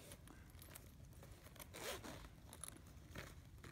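A zipper runs along the pocket of a Chanel handbag with a soft scraping pull, quiet and close, over faint rustling.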